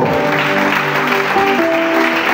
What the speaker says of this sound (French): Acclame d'abord très fort pour les Seigneurs.